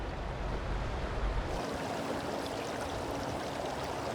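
A river flows with a fast current along the far bank, producing a steady, faint broadband rush of moving water with no talking.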